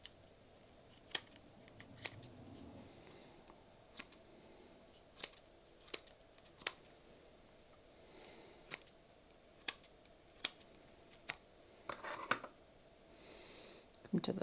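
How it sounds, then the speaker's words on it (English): Small scissors snip holding stitches from the back of Teneriffe-style needle lace, producing sharp isolated clicks at irregular intervals, quiet and close in a still room. "at the back, just cut all of the holding stitches"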